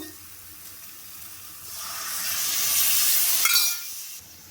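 Water poured into a pan of frying jackfruit curry sets off a rising sizzling hiss that swells through the middle, then drops back to a softer fry.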